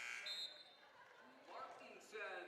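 A basketball game buzzer sounds at the end of a quarter in a college game between Montana Western and Mayville State, a loud tone at the start and again at the end, with crowd noise and a commentator talking.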